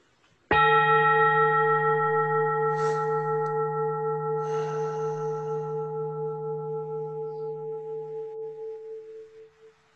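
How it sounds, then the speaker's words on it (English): A ceremonial bell is struck once at a spiritual gathering. Its clear, sustained ring hangs alone and slowly fades over about nine seconds. "with this next ringing of the bell"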